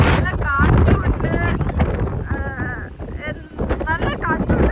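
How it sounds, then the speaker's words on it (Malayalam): Strong wind at a beach buffets the microphone in loud, constant gusty rumbles, with people talking over the roar throughout. "നല്ല കാറ്റുണ്ട്"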